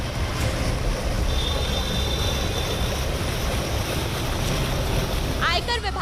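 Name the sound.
rainwater gushing up out of a flooded manhole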